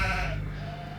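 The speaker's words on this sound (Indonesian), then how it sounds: "Domba-dombanya menggembik ketakutan" A frightened sheep lets out a short, strained bleat close by. It is a single, brief call with a low rumble underneath and no voices.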